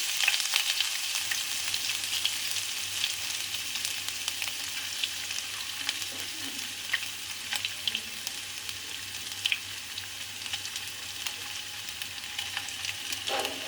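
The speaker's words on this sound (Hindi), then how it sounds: "इसमें लहसुन अदरक डालूंगी, हल्का सा फ्राई करूंगी और कोफ्ते डाल दूंगी।" Garlic and ginger frying in hot oil for egg koftas, a steady broad sizzle with occasional crackling pops, close and even throughout with no talk.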